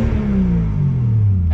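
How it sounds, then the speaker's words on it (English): A Nissan Skyline R32 engine revving up close and loud, a steady rough roar with a falling tone that fills the whole short stretch, with no voices over it. "I'm gonna rev it a little bit."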